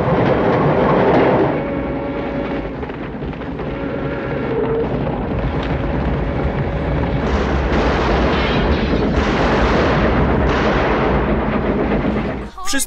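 A train with an armored car in the Red Dead Redemption video game rumbles steadily with heavy, booming clatter throughout, under someone talking at length.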